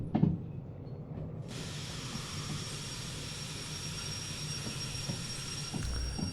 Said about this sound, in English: Wheel slip again. No sand.